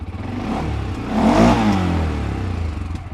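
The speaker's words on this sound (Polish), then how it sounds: "wydech, pracę silnika" A CFMOTO Goes Terrox ATV engine idles and revs steadily, exhaust rumbling close by, rising briefly in the middle before settling back to a steady drone.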